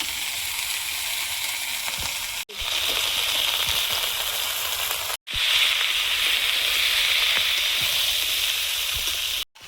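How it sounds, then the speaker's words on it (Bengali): Crushed garlic hits hot oil with five-spice seeds and sizzles loudly and steadily, a dense bright hiss that runs on without pause apart from a couple of very brief cuts. "থেতো করা রসুন, এটা দিয়ে দেবো"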